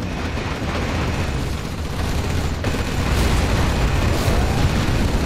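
A nuclear missile launch and detonation in the PC strategy game Command & Conquer Generals Zero Hour comes through as a loud, sustained rumbling roar with a deep boom swelling over several seconds, heard alone.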